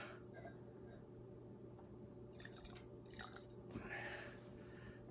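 Witherspoon Single Barrel Straight Bourbon poured from a freshly opened bottle gives a faint, wet trickle with a few soft splashes over a quiet, steady room hum.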